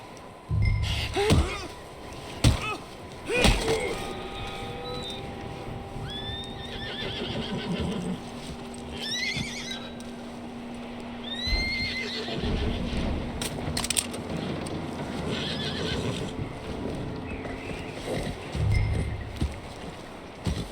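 A horse whinnies several times in Red Dead Redemption 2, with high, wavering neighs over a steady low engine-like hum and occasional hoof thumps.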